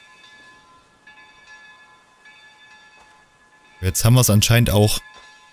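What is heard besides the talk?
chapel bell ringing in Mundaun video game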